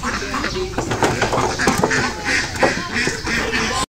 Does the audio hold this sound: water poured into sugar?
no